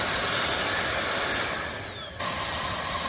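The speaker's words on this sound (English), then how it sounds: "if you can hear over the vacuum" An INTETURE 550W cordless vacuum cleaner runs close by with a loud, steady high-pitched whir. Its motor pitch glides downward and dips briefly before snapping back to full power.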